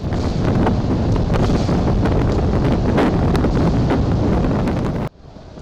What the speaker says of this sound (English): A sudden, powerful gust strikes a docked ship in the southeast, snapping its steel mooring line with ease